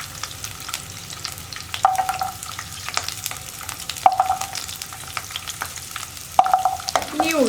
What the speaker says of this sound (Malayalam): ഇനി ഉള്ളി ഒന്ന് കുക്കായി തുടങ്ങട്ടെ.